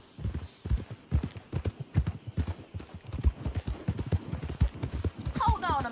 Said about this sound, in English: that's one nice looking horse you got there. How about we see how fast it is?